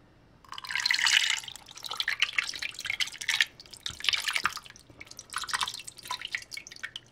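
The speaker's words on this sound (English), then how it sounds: "You're just gonna pour the mixture over your turkey." A liquid mixture pours and splashes over a turkey in a crock pot in several uneven bursts, close and moderately loud, with drips and trickles between pours.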